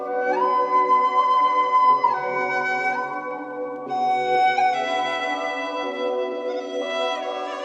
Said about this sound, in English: And then for the second half, the flute comes in.